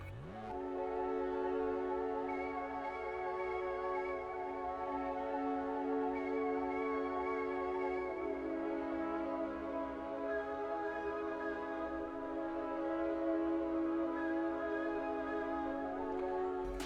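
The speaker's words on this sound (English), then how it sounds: "I had to use this Blue Note pad because I just like the way it sounds." Blue Note synth pad preset from Analog Lab holding long, sustained chords, a smooth, continuous tone at steady volume that shifts harmony slowly across the whole stretch, no voices present.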